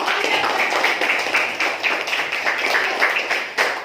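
A classroom of children clapping their hands together, a close, lively burst of quick uneven claps lasting a few seconds.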